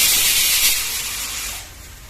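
A steady, bright hiss of butter sizzling in a hot pan with onion paste for pav bhaji, loud at first and easing slightly toward the end, with no voices.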